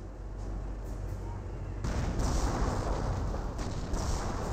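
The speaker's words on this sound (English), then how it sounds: "Apparently he's also throwing some mortars in there." Mortar explosions thud during a Company of Heroes 1 battle, a dense rumbling barrage swelling louder partway through, with a voice commentating over it.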